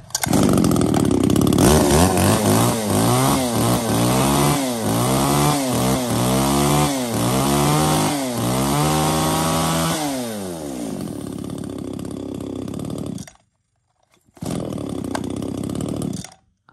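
A chainsaw engine runs loud and close, revving up and down in repeated surges, then idles lower before cutting out briefly and restarting.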